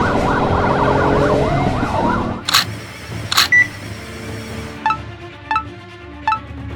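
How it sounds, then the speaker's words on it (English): An ambulance siren wails in rising and falling sweeps, then cuts off, leaving a few sharp clanks and short beeps. "Ambulance 247 is here."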